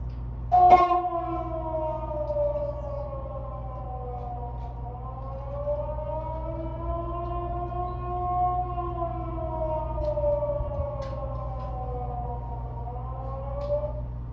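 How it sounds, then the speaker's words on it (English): A wailing air raid siren rises and falls steadily over a low constant hum, sustained throughout with a brief sharp knock near the start. "the sound that is forever associated with the moment that split my life into before and after is the sound of an air raid siren"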